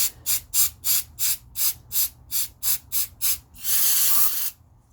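A rapid series of short aerosol cleaner spray bursts, about a dozen in a steady rhythm, ending in one longer continuous hiss, cleaning a carbon-coated EGR valve from a 2006-2010 Honda Civic.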